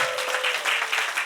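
A church congregation at an anniversary revival service claps in a brief, dense burst with pulsing rhythm, a steady tone ringing beneath.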